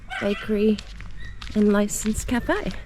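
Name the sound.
dogs barking inside a parked car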